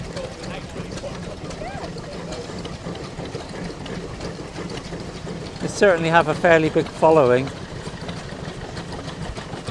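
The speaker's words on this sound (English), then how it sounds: "every country show you go to, you'll find a lineup of these stationary engines." An old stationary engine runs steadily at a country show, a low continuous chugging drone throughout while someone speaks close over it.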